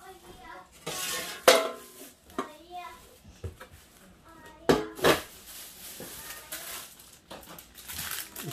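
The lid of a split hot pot set is handled up close, giving a few sharp clanks and rattles between quieter stretches, with soft voices in the background.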